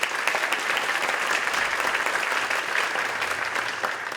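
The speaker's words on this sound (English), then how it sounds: "Give yourselves a big round of applause." Sustained applause from an awards ceremony audience at a school staff recognition event, dense steady clapping filling the room throughout with no voices.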